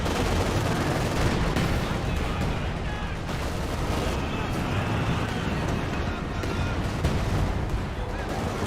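Sustained gunfire and explosions from the Company of Heroes 2 WWII strategy game as shots strike an MG34 machine-gun team, a dense continuous loud battle din with bursts throughout, under a commentator's speech.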